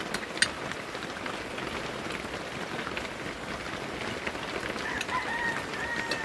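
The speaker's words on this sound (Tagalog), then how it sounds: "Lakas ang ulan." Steady, dense rain hisses throughout at a constant level, with a brief louder spatter near the start and no voices.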